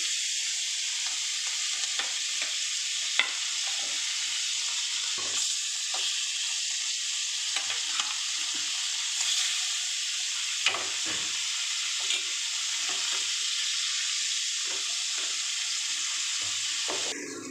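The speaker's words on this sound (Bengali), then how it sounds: "এবার আমি ইলিশ মাছগুলোকে ভেজে নেবো।" Hilsa fish sizzling and frying in a pan, a steady bright crackle of hot oil with occasional soft clinks and scrapes, no talking.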